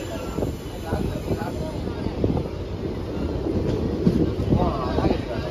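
Saptagiri Express rolls into Basin Bridge Junction with a steady rumble and clatter of wheels and wagons, wind noise buffeting the microphone throughout, recorded on board as a voice talks over it.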